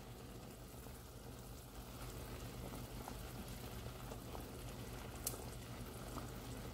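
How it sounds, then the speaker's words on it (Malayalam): Water boiling steadily in a pot for a Kerala-style fish curry, a continuous low bubbling and rumble with a faint clink near the end, no voices. "ഇപ്പോൾ നമ്മുടെ മീൻകറി ഈ വെള്ളം നന്നായിട്ട് തിളച്ച് വന്നിട്ടുണ്ട്"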